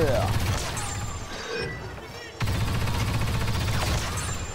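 Heavy weapon fire from the Novician gunner in Star Wars Battlefront 2, a dense continuous fusillade of loud shots and booms with a brief lull midway, mixed with game battle noise.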